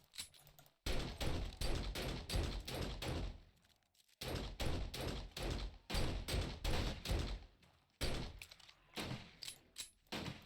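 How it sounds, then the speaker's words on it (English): Shooting in the survival game 7 Days to Die produces rapid bursts of loud, close gunshots in dense volleys. Brief pauses separate the volleys before the firing starts again, with no voices present. "I think I missed all those shots."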